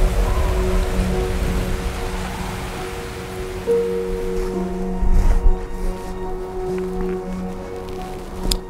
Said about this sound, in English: Just storm and rain and storm and rain.